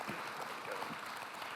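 An audience at a higher education panel during an annual meeting gives a round of applause: continuous, even clapping, faint and roomy, with no voices over it.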